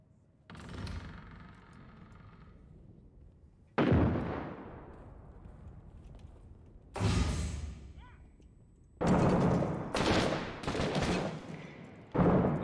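Heavy bursts of video game gunfire and blasts from Six Days in Fallujah come in loud clusters separated by short lulls, harsh and close, with a low rumble between volleys.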